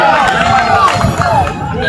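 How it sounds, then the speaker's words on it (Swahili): A crowd applauds an official at the opening of a new early-childhood classroom in Kakamega, steady close clapping over murmuring voices. "Makofi kwake."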